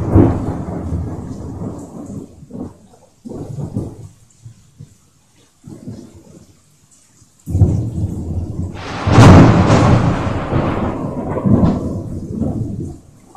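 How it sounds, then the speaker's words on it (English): A thunderstorm rolls through Fort Worth, Texas, with rain hissing steadily. Thunder rumbles in uneven bursts and builds to one loud, close crack, followed by a long rumbling tail. "We got a nice thunderstorm coming through."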